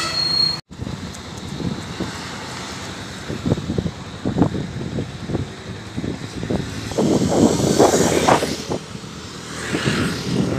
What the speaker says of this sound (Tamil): அந்த வண்டி வந்துக்கிட்டு இருக்கு.